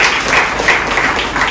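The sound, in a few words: congregation clapping loudly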